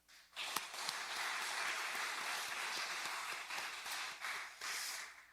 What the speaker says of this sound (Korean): 스스로 격려하는 박수도 한번 하겠습니다.